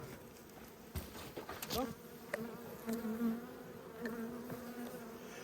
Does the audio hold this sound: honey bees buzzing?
yes